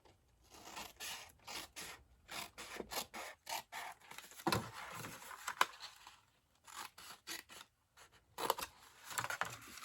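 Scissors snip through dark paper while a 4-inch flower cube box is cut, giving repeated short rasping cuts in bursts with brief pauses, close and fairly quiet, no talk.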